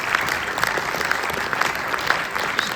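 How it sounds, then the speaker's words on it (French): Sustained audience applause at a public information meeting on reopening the Orge river, a steady dense clatter of many hands from a nearby crowd, with no talk over it. "Je voudrais qu'on applaudisse collectivement les techniciens et toutes les entreprises"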